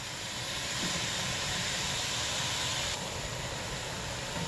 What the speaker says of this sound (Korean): 가장 먼저 채소를 볶아줍니다